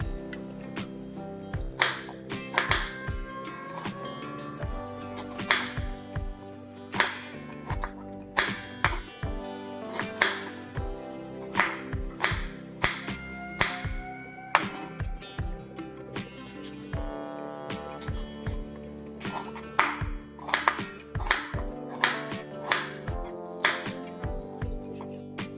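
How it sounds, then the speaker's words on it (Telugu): A knife chops raw mango into small pieces for a quick pickle, giving dense, irregular knocks against a board over steady background music, loud and close throughout. "మొత్తం అన్నీ ఇలా కట్ చేసుకుందాం."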